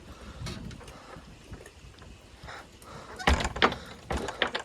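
A garden gate with a light door closer swings shut outdoors in wind, giving a few sharp knocks and rattles near the end over faint breezy background noise.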